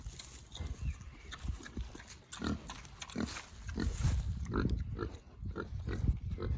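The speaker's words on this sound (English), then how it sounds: "At least one of the pigs likes its veggies." Pigs on a UK smallholding munching vegetables close up, a run of wet chomping and snuffling grunts in an uneven rhythm, with light rustling and no voices.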